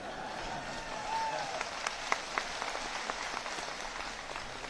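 A crowd claps at a political public meeting addressed by Chief Minister Bhupesh Baghel in Narayanpur, Chhattisgarh. The applause is a steady, fairly faint wash of many hands, heard from a distance, with a few sharper claps standing out.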